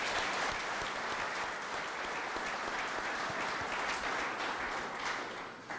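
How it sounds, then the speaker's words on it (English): A ceremony audience applauds the Honor Guard and Pipes and Drums at a gym dedication, with loud, sustained clapping that fills the whole stretch and fades slightly at the very end. "can we give another round of applause to the Honor Guard and Pipes and Drums for the"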